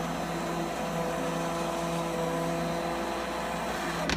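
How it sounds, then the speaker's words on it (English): An immersion blender purees butternut squash and sweet potato soup in a pot with the heat off, making a steady whirring motor drone with a constant hum throughout, fairly quiet and without talk. "You have to be very careful using an inversion blender."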